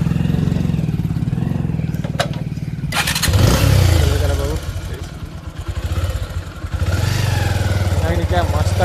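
A motorcycle engine is started and settles into a steady idle. A loud revving surge comes partway through, over outdoor crowd noise with people talking nearby.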